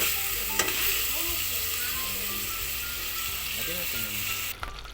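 Ground pork sizzles and fries steadily in a pan for pork giniling, with intermittent stirring scrapes and clinks running throughout at close range.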